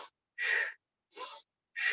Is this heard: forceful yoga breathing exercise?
yes